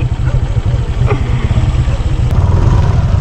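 A motorcycle engine labours along a muddy track through a cornfield, its low steady drone rumbling close and loud throughout with a faint clatter over it.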